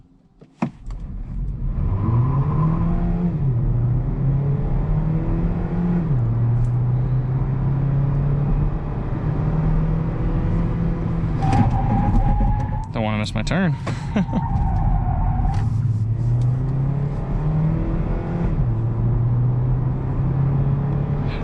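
A 2020 Hyundai Ioniq plug-in hybrid's engine drones steadily inside the cabin while driving, a low hum shifting pitch as speed changes, with someone talking over it throughout.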